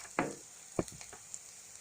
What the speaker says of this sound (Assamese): ভালকৈ ভাজি ল'ম যাতে চয়া চচখিনি কেঁচা গুণটো নাইকিয়া হৈ যায়